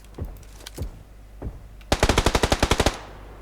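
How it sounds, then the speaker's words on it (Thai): Gunfire in the video game PUBG Lite: a few scattered distant shots, then a loud, rapid automatic burst of about a dozen evenly spaced rounds over a constant background hum. "ยิงกันอยู่ข้างบนเนี่ย"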